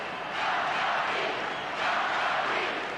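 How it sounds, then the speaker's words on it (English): Maccabi Tel Aviv basketball crowd at a 1991 game against Kingston, a loud, sustained roar of cheering fans that surges twice in broad waves. "And listen to the Maccabi crowd."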